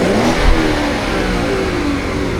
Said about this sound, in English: This should be my aggressive hard burbles.